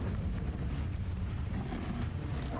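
Incendio fire spell cast in the PS5 game Hogwarts Legacy, a steady, loud, low rumbling roar of flame and booming impact that fills the whole clip with no talk over it.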